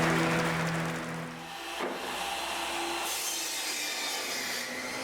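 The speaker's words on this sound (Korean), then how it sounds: "날카로운 쇳소리와 나무가 다듬어지는 소리" Close, scraping strokes of a tool shaping wood by hand, a rough rasping texture with a brief hum early on and no voices.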